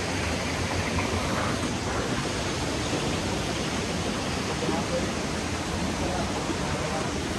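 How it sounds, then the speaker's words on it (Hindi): Water flowing and tumbling down through an eco tourism park in Karbi Anglong, a steady broadband rush that stays loud and unbroken throughout, with no voices standing out above it. "और नीचे ये देखो पानी किस तरह से बह के आता है"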